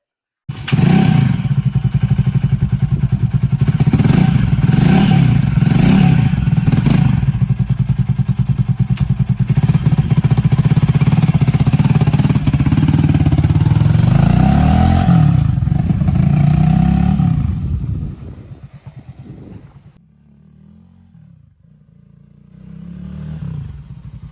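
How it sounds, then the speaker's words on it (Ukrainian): A Loncin CR4 streetbike's engine fires up and runs loud and close, its exhaust giving a steady throaty drone with a few blips of the throttle, then it drops to a quieter idle near the end. "Викотимо його на вулицю, заведемо, ви послухайте, як він працює. До речі, в нього дуже класний звук у вихлопах"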